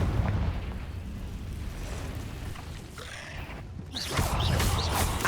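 A Confringo fire-spell explosion in the Hogwarts Legacy video game inside a cave, a sustained loud rumbling blast with crackling bursts that swell again toward the end.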